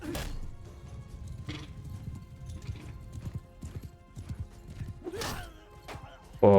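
Horse hooves clip-clop amid a medieval video game battle with polearms, maces and horse archers, a brief whinny rising near the end over steady clashing and thuds.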